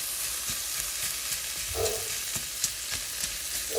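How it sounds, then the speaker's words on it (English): Ground pork sizzles steadily in a hot pan while a utensil scrapes and breaks it into smaller chunks, with soft rhythmic taps and stirring scrapes over a constant close frying hiss. "And now I'll go and break it up some more into smaller bite-sized chunks."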